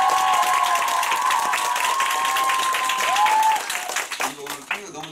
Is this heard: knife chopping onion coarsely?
no